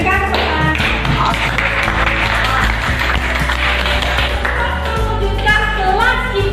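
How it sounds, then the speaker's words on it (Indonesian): Students in a classroom break into applause, a dense patter of many hands clapping at close range, with youthful voices calling out over it. "Berikan tepuk tangan."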